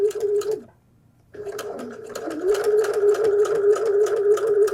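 A sewing machine top stitching a fabric flu mask, a close steady mechanical whirr with a rapid needle rhythm, pausing briefly before starting up again and running continuously.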